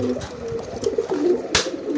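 An old breeding pigeon being selected for racing coos close by, a few soft throaty rolling calls over about two seconds, with a brief sharp noise near the end.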